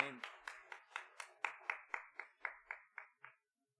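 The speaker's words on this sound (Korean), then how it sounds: "다시 오실 예수님께 우리의 큰 박수로 찬양을 올려드립니다." A church congregation claps in unison in praise during a Wednesday worship service. About a dozen crisp, evenly spaced claps sound in a steady rhythm, then stop into quiet.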